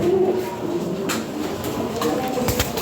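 A male fancy pigeon of the Lahore breed coos in low, rolling tones, close by and moderately loud, with faint background noise and occasional soft clicks.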